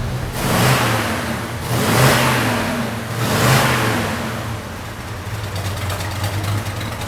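A 1970 Ford Mustang Mach 1 with a 351 V8 roars loudly up close, swelling through three strong revs, then settling into a rough, lumpy idle with no talking.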